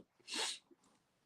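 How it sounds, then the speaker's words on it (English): A single sharp sneeze, loud and close, followed by a brief breathy sniff, with quiet room tone around it. "Oh, that sneeze that I did."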